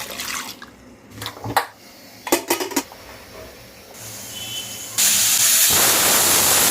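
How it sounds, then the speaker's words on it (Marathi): A pressure cooker holding tomatoes and salt with a little water sends out a loud, sustained steam hiss that rises near the end, after scattered clinks and a faint rising hiss. "याच्या दोन तीन शिट्ट्या करायच्या आहेत"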